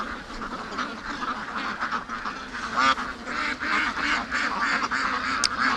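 A flock of ducks quacks continuously and loudly close by in a pen, overlapping calls in an irregular busy chorus.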